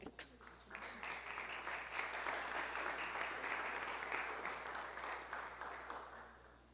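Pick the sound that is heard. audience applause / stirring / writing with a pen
audience applause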